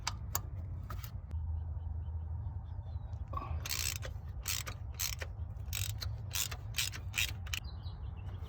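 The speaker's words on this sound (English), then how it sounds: "You're gonna have to use a wrench." Mechanical ratcheting clicks in repeated bursts as a wrench loosens nuts tucked under the distributor of an OBS Ford F-350, close and fairly loud over a steady low hum, without speech.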